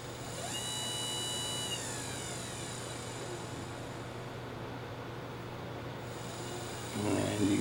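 A DC motor turns at extra slow speed on a 1 HP speed controller, giving a steady low electrical hum with a high whine that fades out, then a brief rougher burst near the end.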